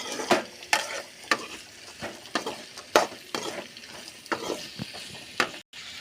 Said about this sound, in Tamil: நல்லா எண்ணெயிலே வணக்கிக்கலாம் காய்.